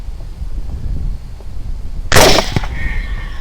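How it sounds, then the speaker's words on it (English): A single loud rifle shot fired at a hog with a Druid Hill Armory Maker Rex 110 gr bullet cracks out sharply over quiet outdoor background noise, followed by a brief fading echo. "the first shot with the Maker Rex bullet seems to have done its job"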